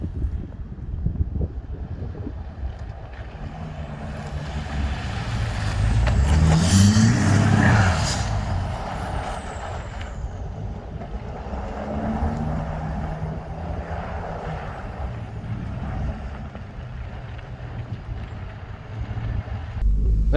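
A pickup truck on BFGoodrich KO3 tires climbs an icy incline at minus 19 degrees, its low engine drone rising in a louder surge midway through and then settling, with wind rumble on the microphone throughout.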